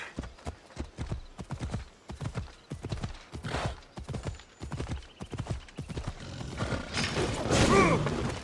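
Hoofbeats of a horse galloping in Assassin's Creed Odyssey, a steady rhythmic clip-clop running nearly throughout, with a whinny and rising game sounds near the end.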